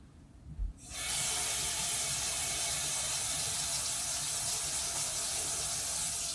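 Liquid, apparently oil, drained from a can of vegan tuna into a sink. A broad steady hiss of running liquid starts after a second and continues evenly to the end.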